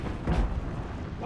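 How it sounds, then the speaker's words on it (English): A high-level fire spell in Dragon Age Inquisition erupts in a single whooshing, rumbling blast that swells quickly and then fades, with a faint voice at the tail. "It's nice having high-level fire spells."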